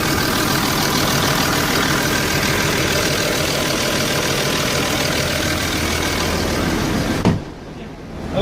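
An Ashok Leyland truck engine idles with noticeable vibration, a loud, close, steady rumbling chug that runs continuously before cutting away abruptly near the end.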